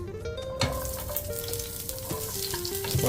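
Shallots and green chillies fry in hot coconut oil for a chicken roast with coconut milk, giving a loud, dense, continuous sizzle and crackle up close with a few stirring knocks and no speech.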